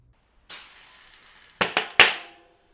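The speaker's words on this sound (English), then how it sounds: "In order to inflate the tire, I am going to use a CO2 cartridge, and it will sound like this." A CO2 cartridge releases a rushing hiss of gas into a tubeless bicycle tire, followed by three sharp, loud pops close together as the bead snaps into place.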